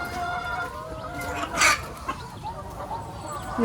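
Chickens and other farm fowl cluck in a busy yard, with several overlapping calls and a louder burst midway, set against steady background noise from geese, ducks and new chicks.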